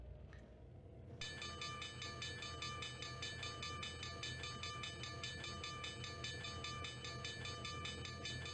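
A Conrail coal train from the Laurel Mine rolls past near a road crossing, a steady continuous rumble with sustained high tonal squeal and whine from the wheels, building in at the start and holding evenly loud throughout.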